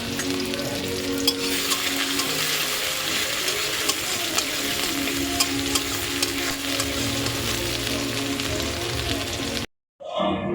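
Rice frying in a pan with egg, peas, onion and chili gives a steady, close, crackling sizzle with scraping stirs throughout, then cuts off abruptly near the end.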